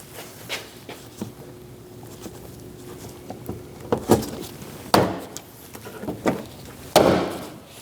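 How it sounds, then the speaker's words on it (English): Several solid taps on a Dodge door panel as its clips are seated: a series of sharp hollow knocks with small ticks between them, the strongest hits coming near the end. "give it a solid tap, and you'll hear the clips click in."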